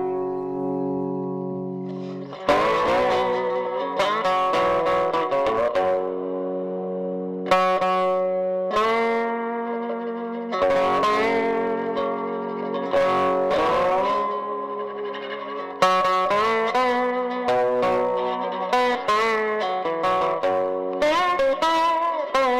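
A twangy cigar box guitar through a piezo pickup plays clean, plucked phrases with bright attacks and ringing sustain, separated by brief silences, close and moderately loud.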